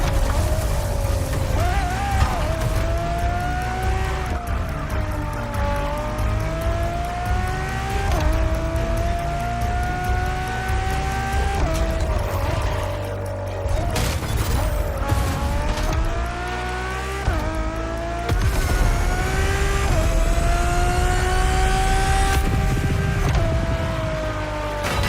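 A Ferrari road-legal Formula One-style car in The Crew Motorfest, its engine droning steadily and rising and falling through gear changes over a long stretch, with a faint tire squeal and no talk.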